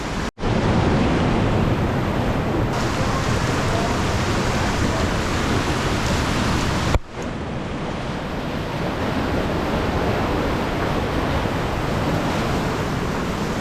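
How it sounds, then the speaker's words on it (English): Big whitewater surf roars steadily and loudly as a continuous broad wash of water noise, briefly cut twice, with wind buffeting the microphone. "That's some big waves."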